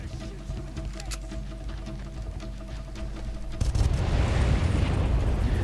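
Gunfire in the video game Far Cry: a rumbling game soundscape becomes a loud, dense burst of explosive booms from about the midpoint onward, sustained and close.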